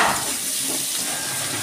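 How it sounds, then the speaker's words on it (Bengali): Potatoes with turmeric and salt fry in a pan of oil, giving a steady, close, fairly loud sizzle that runs unbroken with no one speaking. "হলুদ দিয়ে আমি আলুটাকে একটু লাল লাল করে ভেজে নেব।"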